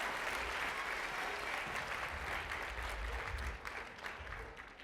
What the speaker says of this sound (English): Let's give all of our readers one more big round of applause for the job they did today.